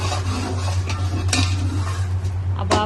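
Masala being fried and stirred in a pot for chana pulao, with a constant sizzle under repeated scraping strokes of a spoon against the metal, close and loud, and no talking.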